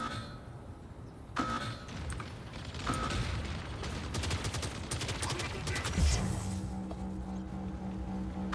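Rapid weapon fire and mechanical clanking in the mech combat game Mech Arena, with dense bursts of shots layered over whirring machinery, steady and moderately loud throughout with faint voice-like sounds mixed in.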